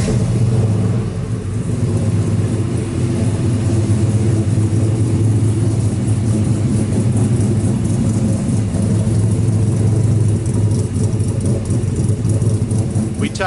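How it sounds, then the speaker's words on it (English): Custom 1959 Chevrolet truck with a 495-horsepower GM LS3 V8 and exhaust tucked up to dump at the fenders, running loud and steady with a deep continuous rumble close by, occasional swells in revs, and a voice faintly under it. "I will go ahead and start it up. You guys can hear the engine."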